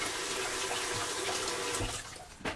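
A kitchen tap runs steadily over vegetables being washed for soup, a close continuous splash and rush of water that eases briefly near the end.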